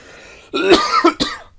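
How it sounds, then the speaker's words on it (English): Someone lets out a harsh, close cough, a rough double burst followed by a shorter third hack after a faint quiet lead-in. "And a bad cough."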